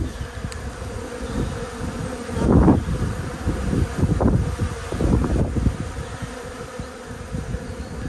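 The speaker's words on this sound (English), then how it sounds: "the bees are now doing their orientation flight, so they're circling their hive and their new area" Honey bees buzzing in a steady swarm as they circle their newly moved hive on an orientation flight outdoors, a dense continuous drone with brief swells as individual bees pass close, mixed with light wind noise and no talk.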